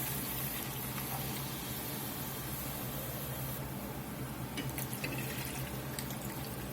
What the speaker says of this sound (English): We're going to go ahead and add this beef stock.